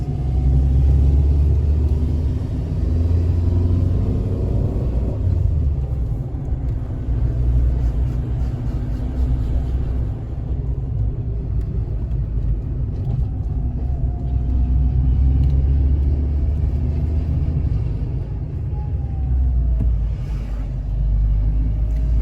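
A car drives along winding island roads in Madeira, heard from inside as a loud, continuous low engine and road rumble with slight shifts as it changes pace, no one speaking.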